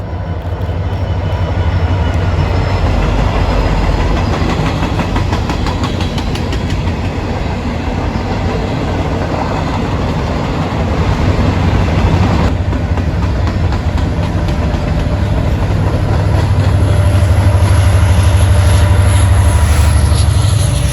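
An Alaska Railroad gravel train rolls through a large sweeping curve, a steady loud rumble with clickety-clack of wagons passing close, continuing and swelling slightly toward the end.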